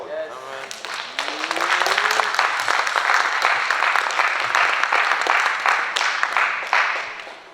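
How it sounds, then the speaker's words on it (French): A church congregation breaks into sustained, fairly loud applause that holds steady for several seconds and fades slightly at the end, with a brief voice at the start. "Je vais acclamer la parole."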